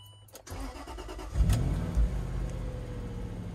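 A Land Rover LR3 engine cranks briefly and catches, then settles into a steady idle with a low rumble, close and fairly loud with no talking.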